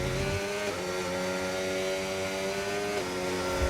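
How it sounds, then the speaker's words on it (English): A race car engine in a racing video game set at Jeddah drones and sputters under traction control, a steady buzzing whine with pitch dips and hesitations, loud and continuous with no talk. "You hear the engine not wanting to go, right? The traction control there."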